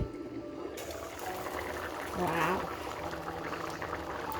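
A pot of thick Kerala chickpea curry bubbles and gurgles at a steady boil close by, with soft popping bursts swelling midway.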